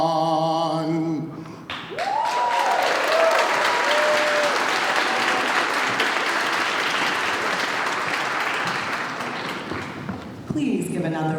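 Applause swells from a crowd at a Boston 250 launch event at a church in Roxbury, dense and sustained after a closing voice, then tapering as speech resumes at the end.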